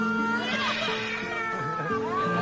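A cat meows in a long, wavering, drawn-out cry that rises and falls, almost song-like, close and clear.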